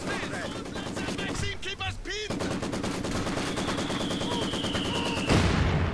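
Sustained rapid machine gun fire in a war video game, loud and continuous bursts of gunshots with a brief gap partway through, dense and close.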